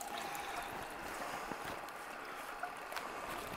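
Water rushing steadily through a gold ore mill while crushing lode paydirt, a continuous broadband wash with faint knocks, fairly quiet and with no voices.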